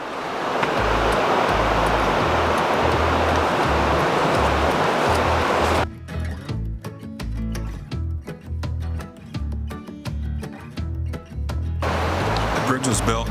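The Elwha River rushes below a pedestrian and bicycle bridge in Olympic National Park, a loud broadband roar of flowing water that briefly gives way to clattering, then returns.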